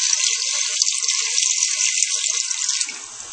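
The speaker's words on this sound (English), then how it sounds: "I'm adding some water in here just to cover" Water pours steadily from a tap into a pot of beef for Korean stew, a continuous bright splashing hiss close up that tapers off at the end, with no talking.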